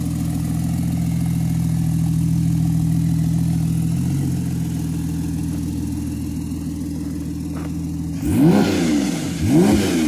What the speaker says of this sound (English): This 2017 Porsche 911 Turbo S. Checking the exhaust.